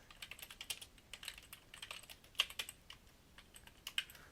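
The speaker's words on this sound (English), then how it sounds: "I can actually just type this in." Typing on a computer keyboard, a quick irregular run of light key clicks and taps, close and fairly quiet, with no talking.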